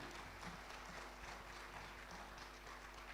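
A brief stretch of audience applause at a formal ceremony for a university and anti-corruption commission collaboration, fairly soft and steady clapping lasting about three seconds over a faint background hum.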